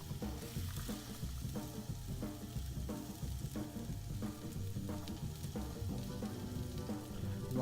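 Celery and onions frying in an oiled skillet for chicken noodle soup, a steady close sizzle running throughout with faint stirring clatter and no talk.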